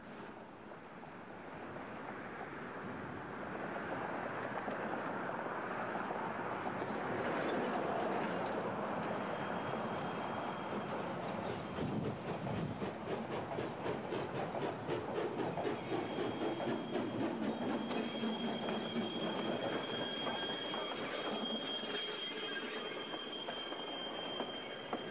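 New Orleans & Gulf Coast steam locomotive 1744 runs on the main line beside the Mississippi River levee, a steady loud train roar with rolling wheel and rail noise and some squeal, sustained throughout with no talk.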